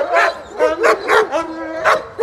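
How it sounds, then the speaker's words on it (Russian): A Yulan wolfdog barks close by in a quick series of about five sharp, loud yelping barks with short gaps between them. "Вот это юланская волчья собака."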